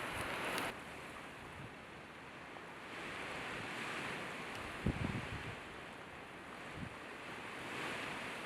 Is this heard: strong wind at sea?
yes